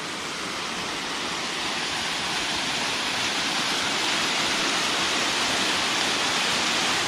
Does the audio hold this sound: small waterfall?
yes